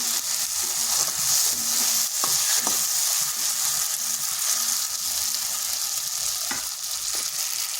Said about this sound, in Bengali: আঁচটা স্লো আঁচ করে কিন্তু বেশ কিছুক্ষণ নাড়তে হবে, আর এটা অনবরত নাড়তে হবে